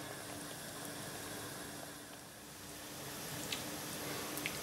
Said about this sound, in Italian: sta bollendo, è quasi arrivata